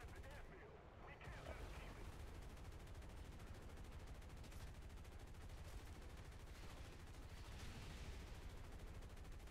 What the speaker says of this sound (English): other people are shooting at me